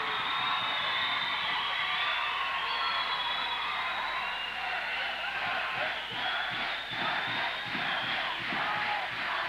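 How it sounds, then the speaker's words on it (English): A packed gym crowd at a 1992 Corner Brook high school basketball city championship game roars and yells continuously at high volume, with a swell of rhythmic stamping or clapping toward the end. "Here's another battle of the crowd levels to see who's the loudest."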